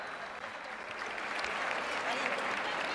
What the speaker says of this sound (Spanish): Fuerte la ovación para los tetines y danzantes de la ciudad.